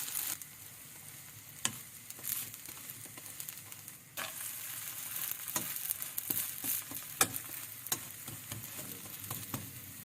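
A keto hummus pita cooks in a hot pan, sizzling steadily with a soft frying hiss, broken by a few sharp ticks and scrapes as the flatbread is handled, close and alone without speech.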